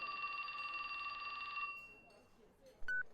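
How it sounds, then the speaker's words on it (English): A phone rings in the video game 428: Shibuya Scramble, a bright electronic trill that holds for over a second and a half and then cuts off, followed by quieter game sounds and a short beep. "His phone rang."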